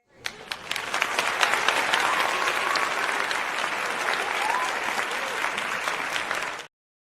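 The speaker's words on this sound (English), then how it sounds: "Maybe we should get some applause or something going on in here." An audience applauds, many hands clapping in a dense, sustained burst that rises quickly, holds steady for several seconds, then stops abruptly.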